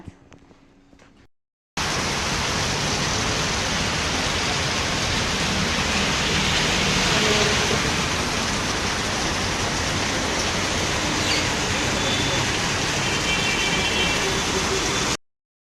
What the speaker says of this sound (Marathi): खूप खूप पाऊस पडला भयानक पाऊस होता